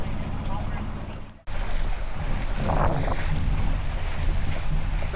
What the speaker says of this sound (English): so we're finally getting some wind